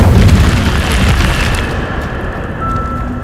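A fiery Incendio spell blast in Hogwarts Legacy bursts with a loud booming roar at the start, then trails off into a crackling, fading rumble.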